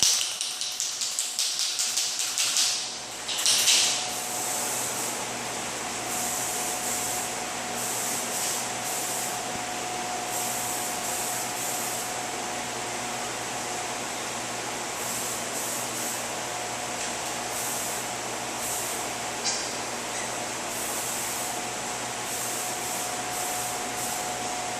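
Adhesion promoter sprayed from a can onto car bodywork where the factory primer was sanded through, a continuous hissing spray lasting many seconds after a few short opening bursts, steady and close.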